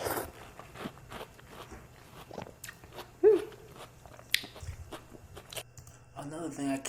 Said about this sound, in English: the sound of people eating watermelons